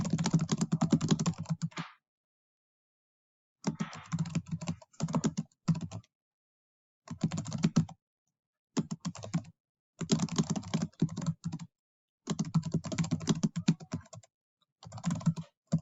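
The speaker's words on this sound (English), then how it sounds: "I finished typing the two body paragraphs." Fingers typing on a computer keyboard in quick bursts of clicking keystrokes, close and fairly quiet, with short silent pauses between runs of typing.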